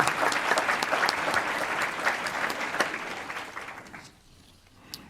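Applause at a board meeting, a room of people clapping for honorees, brisk and fairly close, thinning out near the end to a few last claps.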